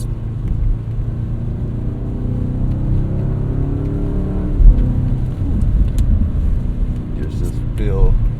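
A 2025 BMW M5 Touring with a hybrid V8 pulls hard after a downshift, its deep engine rumble rising in pitch and swelling steadily from inside the cabin, continuous and loud.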